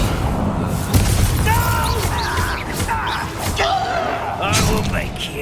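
A Confringo fire spell from Hogwarts Legacy bursts among sharp crackles and booming hits in a busy battle, with a voice speaking over the clash throughout.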